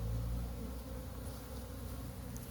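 Honeybees fly around their hives on a mild winter day, giving a steady, close buzzing drone that fills the whole short clip with no talking.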